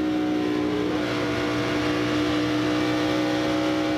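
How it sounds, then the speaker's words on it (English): NASCAR stock cars roar past at the 1998 Texas 500, a steady loud engine drone with a sustained whine and constant crowd-and-track noise, no talk. "you can see Jeremy going by on the outside to put Terry Labonte a lap down."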